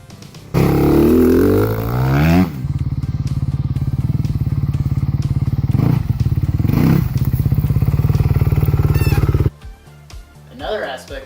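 A motocross bike fitted with a Rekluse automatic clutch, its engine starting with a loud roar, then idling in a steady rapid close putter for several seconds before cutting off, with a voice talking over it.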